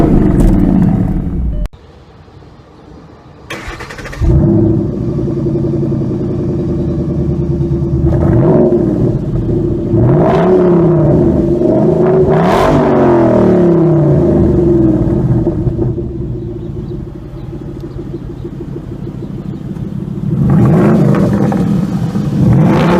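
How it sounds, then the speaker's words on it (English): A 2012 Ford Mustang Boss 302 V8 in Track Key mode, idling with a lumpy, loping rhythm that rises into several short revs over a steady rumble, close and loud, without talk. "Once that happens, the vehicle go into loopy idle"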